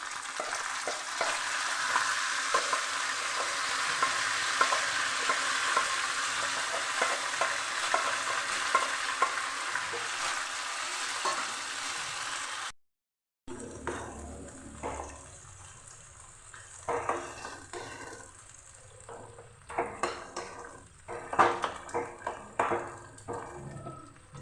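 Boiled mustard greens tossed into fried onions in a pan, stirred with steady sizzling and frying hiss, then a brief break followed by uneven scraping and clattering stirs close by.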